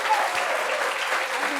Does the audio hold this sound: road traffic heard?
no